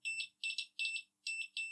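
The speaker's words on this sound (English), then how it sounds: "that's beeping like it's got continuity" A multimeter's continuity test gives a series of high-pitched electronic beeps in quick bursts, four pulses separated by brief gaps, loud and clear with nothing else around them.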